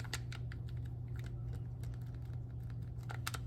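Buttons on well-used old NES controllers are pressed repeatedly, producing quick, crisp, close clicks in irregular bursts over a low steady hum.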